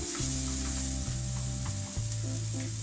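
Potato pancake batter sizzling in an oiled pan, a bright steady frying hiss over a low, stepping electric hum, with a few light clicks of the batter being spread, close and without speech.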